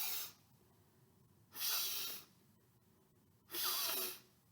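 A person imitates a dog sniffing, three loud, close, breathy sniff-like bursts spaced evenly apart with quiet between them.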